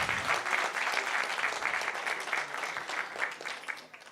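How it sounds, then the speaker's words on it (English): Audience applauding hackathon participants at a health hackathon winner announcement, a steady crowd of many hands clapping for about four seconds at moderate level, no voices on top. "Let's give all the participants a round of applause."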